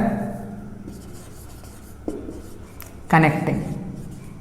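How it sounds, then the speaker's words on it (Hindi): Handwriting during a physics lesson on capacitors, heard as a few short scratchy strokes, the last one louder, mixed in with someone speaking. "यहां पे लिख देता हूं"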